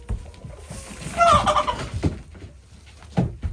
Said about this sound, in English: Chickens, calm down.